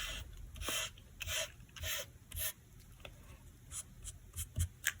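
Ink being applied and smoothed onto the rough, non-glossy side of cardstock with repeated short rubbing strokes, soft and close, with no talking.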